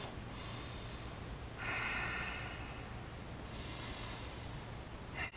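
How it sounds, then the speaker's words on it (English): Deep, rhythmic breaths taken during a power yoga routine for athletes, soft airy inhales and exhales repeating every couple of seconds, faint and somewhat distant over a steady background hiss. "Two more breaths."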